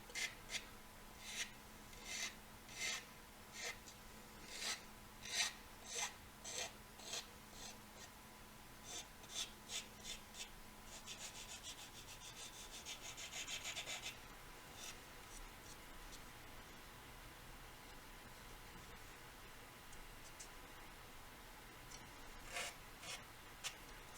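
A Messerschmitt Me 262 A-1a scale model plane being sanded, with quiet rhythmic rasping strokes at an even pace, then a longer continuous rubbing stretch and a few scattered scrapes near the end.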